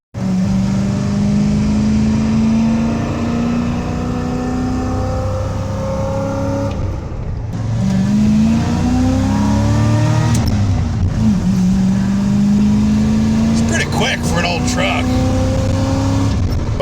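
Carbureted small-block Chevrolet squarebody Suburban with an NV4500 five-speed manual accelerating hard, a loud, continuous engine roar climbing through the gears with brief dips at each shift, heard from inside the vehicle with a voice talking over it.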